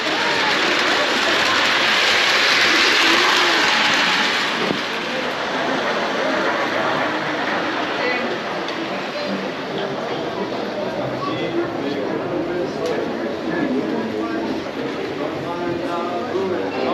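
A Lionel toy train runs on a model railroad layout in a train museum, a steady rolling rumble with faint clicking wheels, heard under excited visitors chatting nearby.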